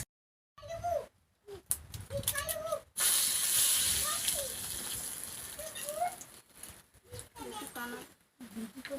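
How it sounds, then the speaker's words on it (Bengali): Sugar dropped into hot oil in a wok sizzles in a steady bright hiss that lasts a few seconds, with a voice talking over and around it at close range. "কড়াইয়ে তেলটা গরম হয়ে গেছে, তার মধ্যে দিচ্ছি একটু চিনি।"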